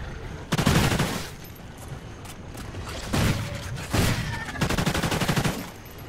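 Explosive-ammo gunfire in Call of Duty Ghosts zombies mode, heard as several loud, sharp bursts of rapid shots spaced across the stretch with short pauses between them.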